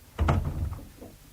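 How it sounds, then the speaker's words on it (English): A door in an office setting in a radio drama thuds shut with a dull, low bump, followed by a short rumbling settle before the room falls quiet. "And close the door."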